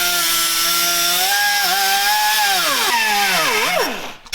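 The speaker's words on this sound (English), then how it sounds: "I'm gonna cut this whole bracket off" Power tool, likely a cut-off saw or grinder, slicing through a welded metal bracket on a Jeep frame, giving a loud, steady high-pitched whine that bogs and dips in pitch near the end before winding down.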